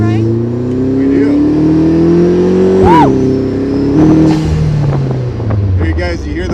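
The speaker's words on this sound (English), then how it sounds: "you hear the wastegate?" Turbocharged 1.4 Ecotec engine in a 2017 Vanderhall Venice three-wheeler revving up, then a quick whooshing release from the wastegate as the pitch drops, loud and close with voices talking over it.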